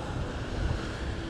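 Strong sea waves breaking hard against the shore in windy weather, a continuous loud roar of surf with wind buffeting the microphone and no talking.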